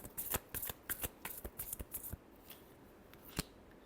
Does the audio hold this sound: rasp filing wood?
no